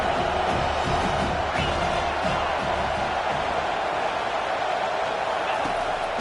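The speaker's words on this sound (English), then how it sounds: "Listen to this crowd just shaking the girders of this place trying to help their defense." A college football stadium crowd roars continuously to support their defense, a dense, sustained wall of cheering and noise that fills the whole stretch, with a commentator's voice faintly under it.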